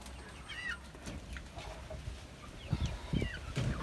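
Desi chickens kept on a rooftop during rain give faint clucks and calls over a steady wet background, with a few louder bursts near the end.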